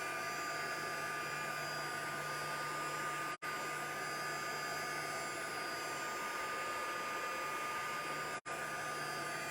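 Hair dryer blowing on a scrapbook layout page, a loud steady whirring hum held close for several seconds, briefly cutting out twice.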